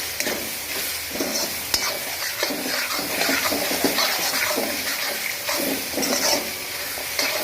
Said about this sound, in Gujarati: આપણે 1 મિનિટ સુધી ધીમા ગેસ પર આને પણ સાંતળી લઈએ